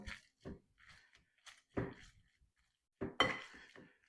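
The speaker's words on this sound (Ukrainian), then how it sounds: "І зараз я помну авокадо." Soft squishy thuds and scrapes come in irregular bursts as avocado is mashed in a bowl for guacamole, quiet and close with pauses between strokes.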